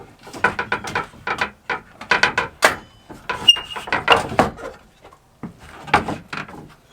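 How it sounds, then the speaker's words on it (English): Folding legs on a slide-out bed in a converted ambulance pop up and down, giving a rapid series of loud wooden clacks, knocks and rattles in uneven bursts, close by. "The legs pop up and down."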